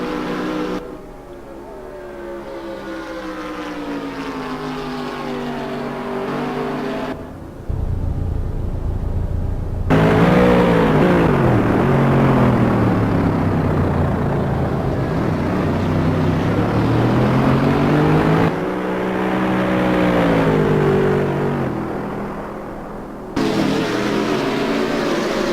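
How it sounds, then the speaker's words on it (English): Racing car engines roar around the Monza circuit in a sim racing game, engine notes rising and falling through gear changes in a continuous loud drone, broken by brief cuts. "We are chasing down Chad Cook for what must be 12th position"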